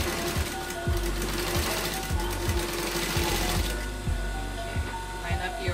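A sewing machine runs steadily in reverse stitching on a Hong Kong seam, its needle thumping in a regular mechanical rhythm with a whirring motor hum, close and continuous.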